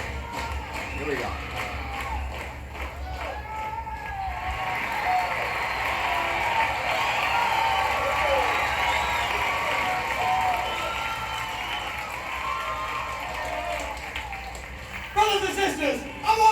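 Audience clapping, stomping and cheering from a live album played on vinyl, a steady dense roar of applause and crowd noise that swells through the middle, with a sharper burst near the end.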